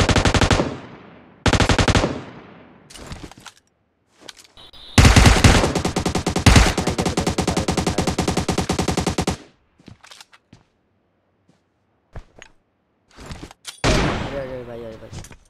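Video game machine gun fire comes in loud bursts, short rattles at first and then a long sustained stream, with gaps between them and a player's voice speaking at times.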